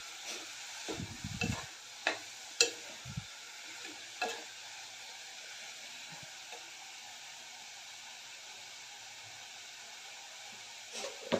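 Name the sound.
stirring and sautéing cabbage in a cooker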